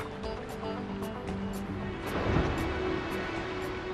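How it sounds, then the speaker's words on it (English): Heavy sea surf and swell crash around a wild European island, a continuous rough wash of waves with one stronger surge midway, with no voices. "Heavy surf stirs up food."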